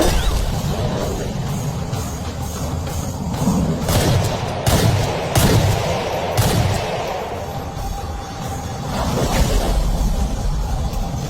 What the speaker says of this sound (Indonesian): ketua mafia yang bernama Sim O menyuruh anak buahnya untuk menembaknya